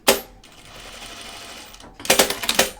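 Sewing machine running a stay stitch on a Charlie Caftan garment, a short opening thump then a steady mechanical whir for about a second and a half, followed by a burst of rapid clattering stitches.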